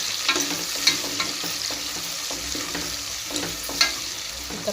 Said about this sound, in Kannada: ಇದನ್ನು ಪೂರ ಕೈಯಾಡಿ ಫ್ರೈ ಮಾಡ್ಕೊತೀನಿ ರೀ